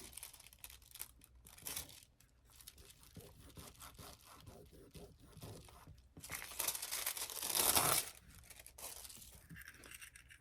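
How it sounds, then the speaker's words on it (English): Foil is crinkled and pressed onto a piece of artwork, with soft, close rustling and scraping throughout that swells into a louder crackling rush near the end. "Okay, and then we'll put our foil on."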